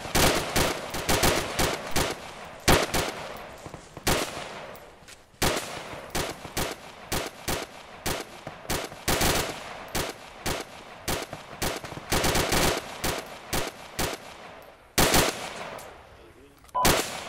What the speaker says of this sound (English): You may be advised we are taking fire from bearing 20 degrees